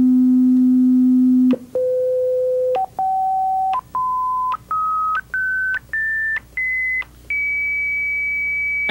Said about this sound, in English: Let's change the coarse tuning of the sound and listen to what it does.